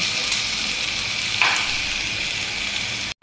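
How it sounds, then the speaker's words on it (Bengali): Chicken pieces with ginger, garlic paste, salt and soy sauce frying in a pan, giving a steady, close hiss of sizzling that breaks off abruptly just before the end. "আমি চিকেনটা ভেজে নিচ্ছি"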